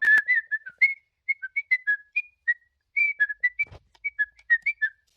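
A person whistles a lively tune alone in a run of short, bright notes, with a brief pause in the middle and a faint thump partway through.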